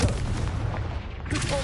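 A single sharp, booming fire-spell blast from Confringo in the Hogwarts Legacy video game, a short explosive thump followed by crackling decay, with a voice calling out over it.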